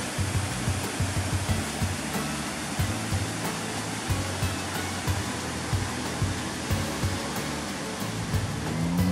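Small waterfall rapids on the Japuré river rushing steadily, a dense broadband roar of falling water with low gurgling pulses, close and constant with no talk.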